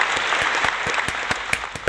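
Applause from a small group, with scattered distinct claps over a steady wash of clapping, short and moderately close.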